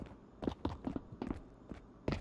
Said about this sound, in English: Footsteps, but...